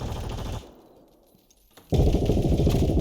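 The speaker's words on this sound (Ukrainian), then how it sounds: "Хто стріляє?" Rapid bursts of automatic gunfire in the video game Zero Hour, loud and dense, stop briefly into a quieter lull, then resume abruptly with another sustained volley.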